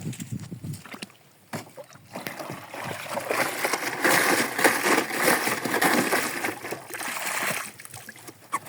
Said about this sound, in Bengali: তো এখন এটা ধুয়ে পরিষ্কার করে আনতে হবে।